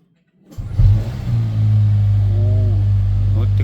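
A Mercedes-AMG GT 43 coupe with a 2.0-litre engine catches after a brief crank, revs up sharply, and then settles into a steady, loud, close idle rumble.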